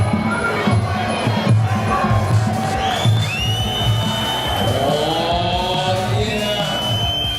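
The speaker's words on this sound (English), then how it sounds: "roar of the crowd." A large crowd at a kickboxing fight roars and cheers loudly and continuously, with rising whistles and shouts near the end.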